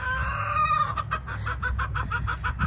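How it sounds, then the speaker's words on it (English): Silkie, Polish and Cochin chickens cluck in a backyard coop on a homestead, giving a steady run of close, rhythmic clucks over a low rumble. "this is the special chicken silky Polish Cochin coop"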